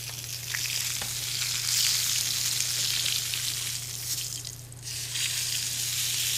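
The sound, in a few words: fish being pan seared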